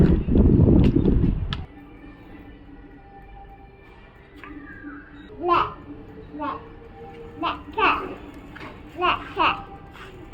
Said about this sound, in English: the noise you hear is actually from all the children in the childcare center